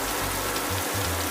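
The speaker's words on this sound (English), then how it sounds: "Right now we're in the heavy rain" Heavy rain pours in a dense, continuous roar during a storm on a highway, loud and steady, with a low rumble underneath.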